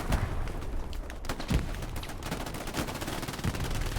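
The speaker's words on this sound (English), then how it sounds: "Rockets just coming in all over the board here." Rockets exploding across a battlefield in the World War II shooter Hell Let Loose during a competitive match, a continuous loud roar of blasts and rapid gunfire with several heavier thuds punctuating the din.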